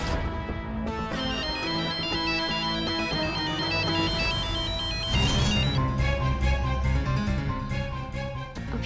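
A mobile phone rings with a bright, melodic electronic ringtone that plays continuously at steady volume, close and without any talk over it.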